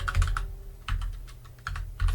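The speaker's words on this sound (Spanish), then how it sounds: "El menos lo estoy haciendo con el teclado numérico" Keys tapped on a computer keyboard's number pad during a Linux install, clustered quick clicks in short bursts with brief pauses, close and clear with no voices.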